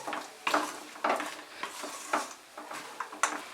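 A spoon stirs coconut and jaggery in a pan, scraping and clinking against the metal in a steady rhythm of strokes with a faint sizzle between them.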